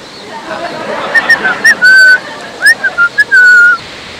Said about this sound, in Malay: Abang tuh makin keras siul dia.